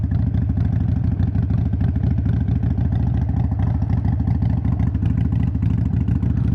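A Harley-Davidson Iron 883 motorcycle idles with a steady, loud low rumble and rapid throbbing pulses, close by and continuous throughout, with no talk.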